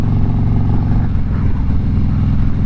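A Harley-Davidson Road King motorcycle fitted with an Ohlins suspension upgrade cruises on the road, its engine giving a loud, steady low rumble with wind noise, heard close and continuous without speech.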